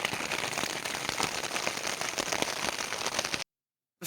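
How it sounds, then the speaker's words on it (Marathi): Heavy rain pours steadily on a mountain road on the way to Dharchula, a dense, loud hiss of drops drumming without pause for over three seconds before cutting to silence. "आणि मोठा पाऊस चालू झाला इथे एकदमच"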